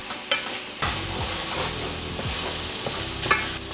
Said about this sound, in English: Just want to get the pork covered in all those seasonings and just keep stirring because we don't want to burn the garlic.